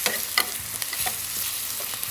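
Spices such as turmeric and cumin powder are stirred into a very spicy curry sauce frying in a pan, with a close, steady sizzle and a few quick scraping strokes, no talk.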